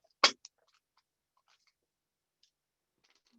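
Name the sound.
precision scissors cutting thread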